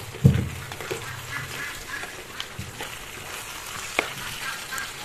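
Chicken curry with banana and potato frying in a pan, a steady low sizzle with a few stirring scrapes and clinks near the mic, no talking.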